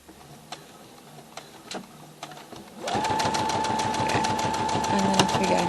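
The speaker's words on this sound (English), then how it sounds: "I'm going to take a couple of stitches forward and then a couple of stitches back" A sewing machine stitches a burp cloth forward and back, with scattered small clicks at first, then a steady, close, rapid mechanical whirring with rhythmic ticking that runs to the end.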